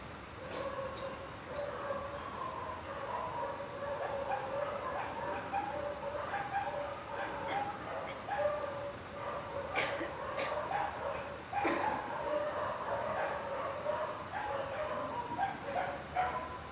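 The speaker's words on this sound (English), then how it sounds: "Sounds like dogs are barking." Several dogs bark intermittently in the distance, with scattered yips against a steady background of ambient noise and no nearby voices.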